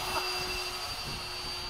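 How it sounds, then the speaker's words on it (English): A Freewing 90mm F-15 RC model jet makes a quick sneak pass with a steady whooshing electric ducted-fan whine over a constant hum. "And a sneak pass, just to cool the battery in the motor."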